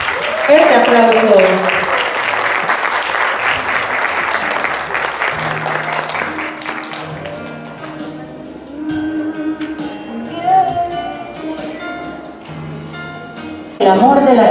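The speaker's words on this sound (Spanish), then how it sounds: "¡Fuerte aplauso!" Guests at a quinceañera party clap loudly at first. The applause fades by mid-clip into music and voices, and a sharp burst of sound comes near the end.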